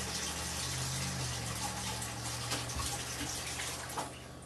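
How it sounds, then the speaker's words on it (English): Cold tap water runs steadily into a bowl with a continuous rushing, splashing flow, moderately loud and close, with a low hum underneath. "What I like to do is just fill it with cold water and let it sit for a second."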